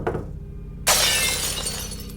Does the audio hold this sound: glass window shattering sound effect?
yes